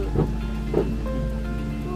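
Steady rain hisses and patters throughout, over a constant low rumble and faint tonal hum, with a couple of soft thumps early on.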